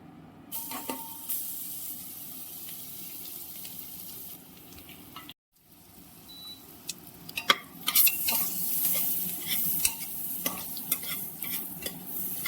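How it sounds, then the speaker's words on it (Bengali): Chopped garlic dropped into melted butter and stirred in a pan for mushroom soup, quiet sizzling at first, then a brief gap and louder sizzle punctuated by sharp utensil scrapes and clicks. "এবার দিয়ে দিচ্ছি রসুনটা"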